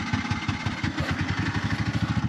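A broken-down tuk tuk's engine in the Argentine desert turns over faster than it should, a fast, even, throbbing chug with a clattering edge, close and fairly loud with no talking.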